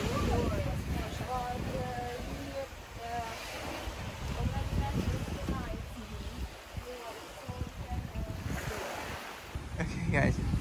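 Ocean waves wash onto an island shore with gusting wind buffeting the microphone, while a person talks over the steady surf.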